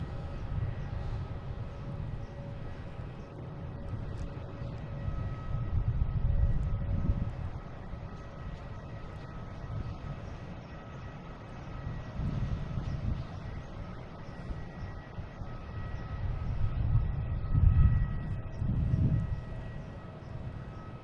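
A Delta airliner arriving from Detroit at Boston Logan airport on a clear day by the harbor, a low steady jet rumble with swelling roar heard from a distance, no talk.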